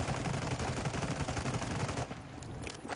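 Sustained rapid fire from a TAQ-56 rifle in a Call of Duty match on the Vondel map, a dense continuous burst close and loud for two seconds before thinning out.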